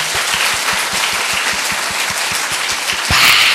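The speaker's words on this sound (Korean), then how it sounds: "우리 박수로 하나님께 영광 돌립니다." Church congregation applauding together during a laughter-therapy revival service, a steady dense wash of many hands clapping, with a rhythmic low pulse underneath and a brief louder swell near the end.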